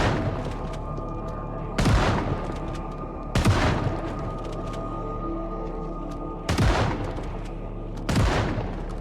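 Gunfire in the zombie survival game Project Zomboid, four loud, separate shots spaced a second or more apart, each ringing out over a steady low background hum.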